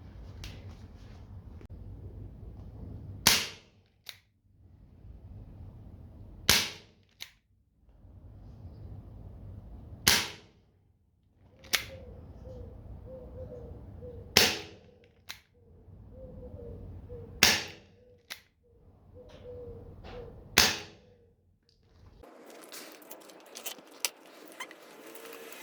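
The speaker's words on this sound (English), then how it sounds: "We're gonna shoot the steel BBs right here and the plastic BBs right here." An airsoft gun fires steel and plastic BBs into a stack of 22 cardboard sheets in a power test, giving about seven sharp, isolated cracks spaced a few seconds apart, with faint clicks between them and rustling at the end.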